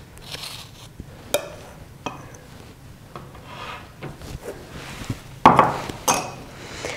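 A palette knife scrapes and taps as it spreads thin boiled apricot jam onto biscuits, giving soft irregular rubs and small clinks against dishes, with a sharper knock near the end, close and fairly quiet with no talk.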